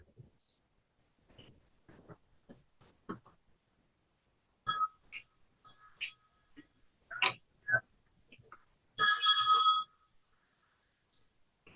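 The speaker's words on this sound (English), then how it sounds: "You need a better ringtone, and please turn it off." A phone ringtone goes off in a courtroom, a series of short electronic tones in an irregular melodic pattern that ends in a longer, louder buzzing burst, heard fairly close in an otherwise quiet room.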